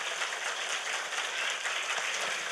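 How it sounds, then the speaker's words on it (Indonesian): An audience at a mosque gathering claps for the organizing committee, a dense, even wash of many hands applauding continuously, full and fairly close. "Tepuk tangan dulu dong buat panitianya."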